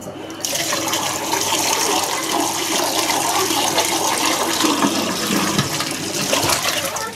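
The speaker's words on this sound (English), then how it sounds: "Give this a quick rinse." Water runs continuously to rinse out a homebrewing vessel that held hops, a steady splashing rush with gurgling throughout, close and fairly loud.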